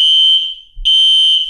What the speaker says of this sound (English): do I hear an alarm?